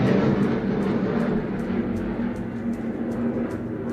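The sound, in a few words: jet aircraft flying overhead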